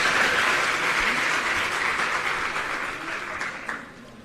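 An audience at a government school event in Bawana, Delhi claps loudly to welcome a speaker, the dense applause starting strong and then gradually thinning and fading toward the end.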